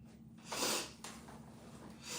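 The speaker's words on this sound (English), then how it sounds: "Sorry, y'all. I got the sniffles." A couple of close, breathy sniffs through a stuffed nose, short airy bursts with a quiet pause between them.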